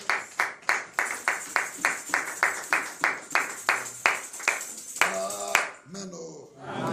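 A church congregation claps in a steady rhythm, about fifteen loud, even claps, before the clapping breaks up and a voice rises over the room.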